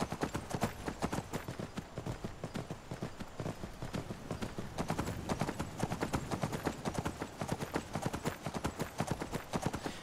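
A horse's hooves clip-clop in a steady rapid rhythm while riding in the video game Skyrim, loud and close and continuing throughout with no speech over them.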